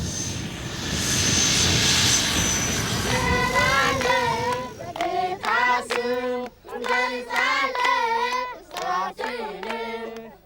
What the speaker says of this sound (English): It's not every day a plane lands here.